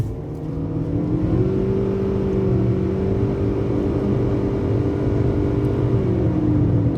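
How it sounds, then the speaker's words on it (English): Engine of a 2020 Mitsubishi Outlander held at steady high revs in Drive Sport mode, a continuous loud droning hum with a sustained even pitch that barely wavers, heard alone throughout. "You see how I was just holding the revs?"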